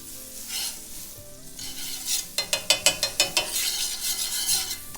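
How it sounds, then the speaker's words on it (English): Butter melting on a hot flat-top griddle before smash burgers are cooked: a continuous bright sizzle, close and fairly loud, interrupted midway by a quick run of sharp, evenly spaced scraping clicks, with no talking. "we got our flat top nice and hot. Hit that with some butter."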